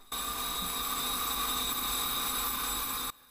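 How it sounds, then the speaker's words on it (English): An electric sharpener grinding a high-speed steel rod into a drill gives a steady, high-pitched whine with a constant tone, starting and stopping abruptly. It is close, with no voices. "Let's start sharpening,"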